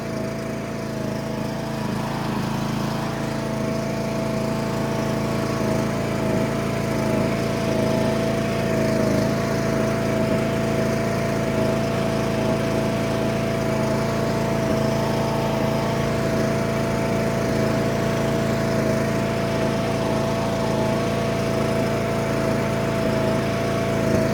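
Steady drone of a John Deere D100 ride-on lawn mower engine running just after an oil change, a constant close-up hum with no talk and little variation in pitch or loudness throughout.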